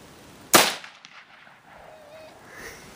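A single sharp rifle shot fired at a gopher cracks out loud and close, then decays quickly into quiet outdoor background.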